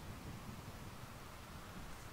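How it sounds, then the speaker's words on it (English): Rain in the video game Rimworld makes a faint, steady, even hiss with a soft low rumble underneath, unbroken from start to finish. "Oh, now it's raining."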